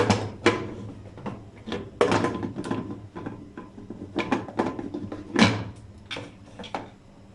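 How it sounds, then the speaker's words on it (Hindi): A metal pressure cooker lid clanks and scrapes repeatedly as it is fitted and twisted shut, a series of sharp close knocks and rattles. "अब इसका ढक्कन बंद करेंगे।"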